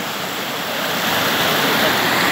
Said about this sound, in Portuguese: E aí, Tony, essa água é de ontem, é?